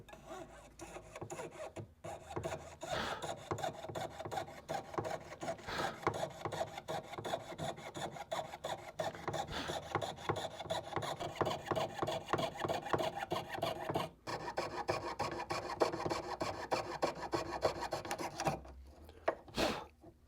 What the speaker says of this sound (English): I'm going to take my time and I'm just going to cut this little by little, getting as close to that line as possible.